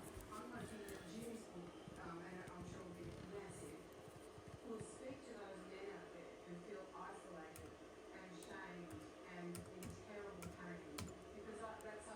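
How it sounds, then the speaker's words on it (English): Fingers type on a computer keyboard while macOS Sierra is installed on a late 2012 iMac, a steady patter of soft, quick key clicks running throughout. "I'm going to type my thing in."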